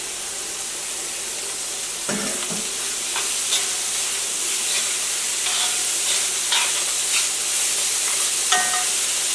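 Onion and beetroot with dried and green chilies stir-fry in a pan, giving a continuous bright sizzle broken by several sharp scrapes and clicks as the mixture is stirred.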